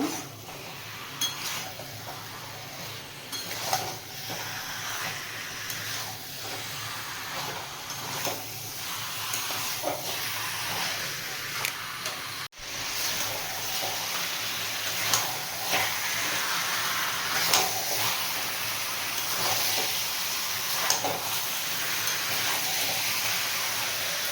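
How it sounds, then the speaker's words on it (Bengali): Chicken masala sautéing in a pan over a raised gas flame, a steady dense sizzle and hiss with repeated scraping stirs and occasional utensil knocks throughout. "গ্যাসটা একটু বাড়িয়ে কষাতে থাকবো।"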